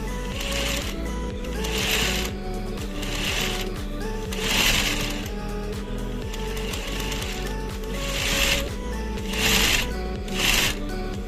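A sewing machine stitches a coiled cotton rope bowl held at a 45-degree angle, running in steady rhythmic bursts of close mechanical whirring and clatter with short pauses between runs.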